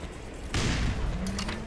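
Gunfire in the video game Half-Life erupts as a sudden loud burst of shots that sustains for about a second, followed by a lingering tonal hum and a few sharp clicks.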